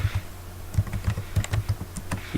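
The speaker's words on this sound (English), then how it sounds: "hit enter key, type config T, hit enter." Computer keyboard keys tapped in quick irregular bursts while entering router configuration commands, close and clear with no talking.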